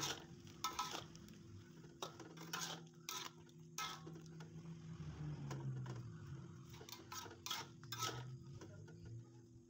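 Tofu and tempeh are stirred in a pan of simmering seasoning with powdered broth. Repeated utensil scrapes and clinks come in bursts over a soft, steady sizzle, close up, with no talking.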